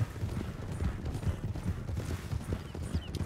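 Galloping horse hooves in the video game Red Dead Redemption 2 pound in a fast, even clip-clop rhythm, close and continuous throughout.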